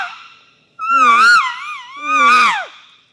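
Two long, high-pitched squealing screams imitating an elk cow's estrus call, each rising and bending in pitch, close and loud with a brief pause between them.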